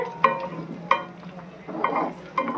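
Fish cutlets frying in oil on a high flame, a soft close sizzle with occasional scraping stirs and light clinks, no voices.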